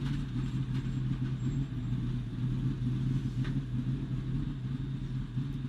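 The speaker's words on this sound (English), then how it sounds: "You can hear the flat tires." A NASCAR Xfinity Series race car runs on flat tires at Kansas Speedway, a steady, loud low engine drone with a constant rumbling undertone and no voices.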